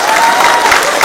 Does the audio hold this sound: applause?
yes